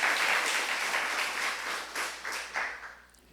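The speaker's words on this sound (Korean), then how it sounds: "우리 하나님께 박수로 감사하며 영광 돌리겠습니다." A church congregation claps at a Thanksgiving Sunday service, a warm roomy wash of applause that gradually thins and fades toward the end.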